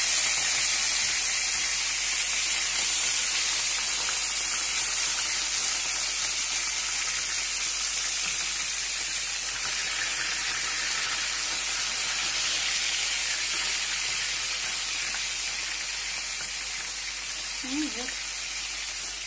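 Steady, loud sizzling and crackling of food for cabbage rolls frying in a pan, a dense hiss that continues throughout with no talking.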